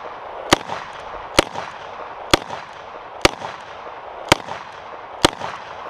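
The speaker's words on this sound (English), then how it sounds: "if I'm gonna shoot 357 Magnum, this is what I'm gonna shoot it out of." Six sharp, loud revolver shots ring out from a Smith & Wesson 686P firing .357 Magnum, spaced roughly a second apart, each crack followed by a short decaying echo.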